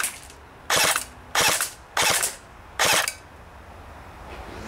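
An FN Herstal M249 MKII Minimi airsoft gun firing full auto in four short rattling bursts separated by brief pauses, loud and close with no talking.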